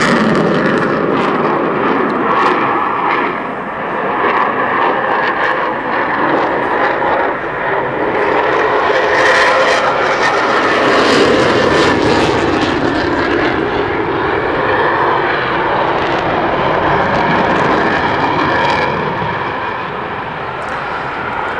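Eurofighter Typhoon jet roaring through an airshow display with afterburners lit, a loud, continuous broadband thunder that swells and surges as it passes, steady throughout with no talk.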